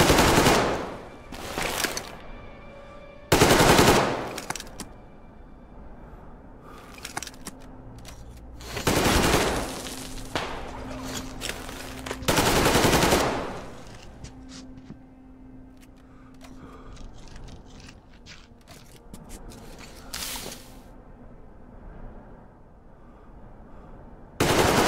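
Machine gun fire in the Metro Exodus video game comes in several loud bursts of rapid automatic shots with quieter gaps between them.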